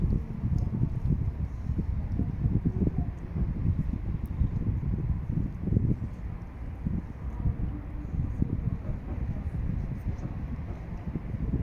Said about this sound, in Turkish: Biraz rüzgar var.